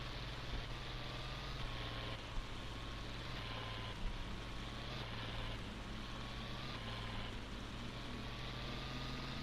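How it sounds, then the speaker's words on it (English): International 2+2 tractor engine in Farming Simulator 22, a steady low diesel drone with a constant hum and faint shifts in pitch as the gears change, heard from the cab with no talking. "Engine sounds really good."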